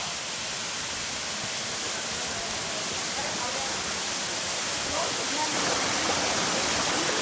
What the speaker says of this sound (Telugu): ఫ్రెండ్స్ ఇదే మనం చేరుకోవాల్సిన వాటర్ ఫాల్ అయితే ఇదే.